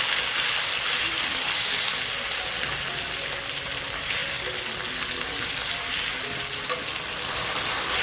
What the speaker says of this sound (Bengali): টমেটোটা একটু ভাজা ভাজা হয়ে গেলে দিয়ে দেবো আদা রসুন